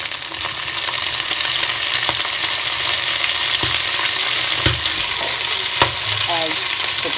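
Onion, garlic and ground spice pastes frying in hot oil for a dried-fish dish, a steady loud sizzle throughout with occasional stirring clinks and scrapes, no talking.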